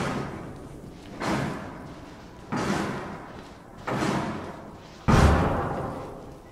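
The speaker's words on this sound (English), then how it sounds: "Was the knocking really necessary?" Four heavy, evenly spaced bangs strike a door in the horror game Outlast, each about a second and a half apart, loud and booming with a short rumbling decay, the last hit hardest, with no talking.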